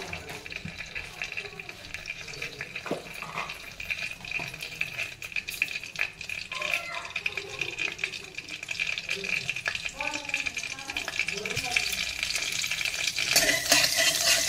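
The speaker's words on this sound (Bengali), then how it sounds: "তেলটা গরম হোক, আর এর মধ্যে আমি একটু কালো জিরে ফেলে দিলাম" Nigella seeds fry in hot oil in a pan, giving a steady, close sizzle that grows louder toward the end, with faint voices in the background.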